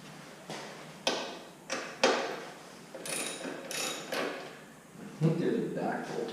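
Ratchet clicking while loosening an exhaust bolt on a Honda CRF250L motorcycle, with several short bursts of ratcheting and clacks of the tool close by as someone talks.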